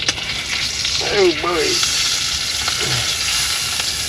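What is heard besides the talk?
meat searing in a pan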